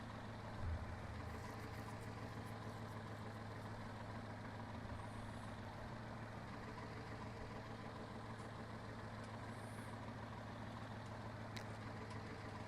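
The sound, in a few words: tractor engine running in video game Farming Simulator 19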